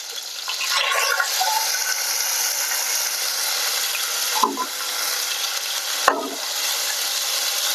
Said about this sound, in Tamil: பச்சை வாசனை போற வரைக்கும் நம்ம வதக்குவோம்.